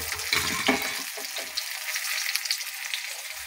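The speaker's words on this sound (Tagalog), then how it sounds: "Uy, sumasabog pa. Ganda ng pagkaprito." Lizardfish frying in hot oil, a steady close sizzle with sharp pops and sputters in the first second that then settles into a continuous crackle, with a faint voice.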